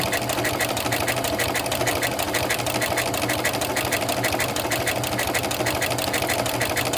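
A sewing machine with an F foot runs steadily while stitching around the edge of a fabric appliqué on a quilt block, a continuous close, even mechanical buzz with a fast rhythmic needle pulse and no pauses.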